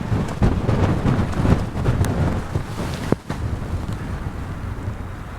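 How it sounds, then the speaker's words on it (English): Strong wind on an open Wyoming landscape buffets the microphone in a constant low roar, gusting unevenly with occasional sharp knocks, loud and close. "a wonderfully windy day here in Wyoming."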